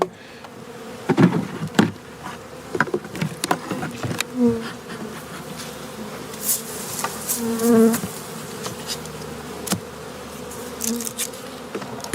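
Honey bees buzz around an open hive during early spring feeding, with a steady close-up drone and individual bees whining past now and then.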